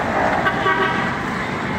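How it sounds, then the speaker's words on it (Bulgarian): Car horns toot briefly amid night traffic in Hurghada, a couple of short honks over a constant road hum, moderately near. "И непрекъснато се свири."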